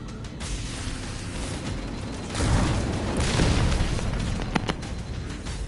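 A fusion reactor blows up in the Halo Campaign Evolved game, a sustained rumbling roar of booms and bursts that swells louder partway through, with sharp crackling pops near the end.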